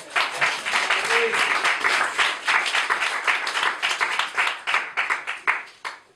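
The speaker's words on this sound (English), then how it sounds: "So give him one more round of applause." Audience applause at a debate event at Clarke House: dense, sustained clapping from a crowd that holds steady for about six seconds, then thins into scattered claps near the end.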